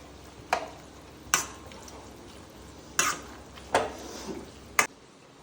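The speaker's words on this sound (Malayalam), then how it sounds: "ക്രീമി അതെ നമുക്ക് നല്ലോണം ഇളക്കി കൊടുക്കാം" A spoon stirs creamy curd into chicken in a pot, making five sharp clinks at uneven intervals over a quiet, faintly sizzling background.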